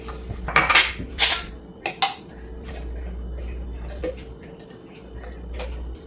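Boiled peas, carrots and asparagus are tossed together in a bowl with a few clattering utensil knocks and clinks early on, then quieter soft squishy stirring over a low background hum.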